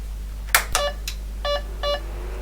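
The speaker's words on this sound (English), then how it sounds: "We heard 2 beeps." An HP 9845B computer with a test ROM cartridge fitted powers up with a few soft clicks, then gives two short, clear electronic beeps close by.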